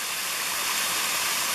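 A small waterfall at Buttermilk Falls in Indiana County, Pennsylvania, pours as a steady, loud, close hiss of rushing water with no voices.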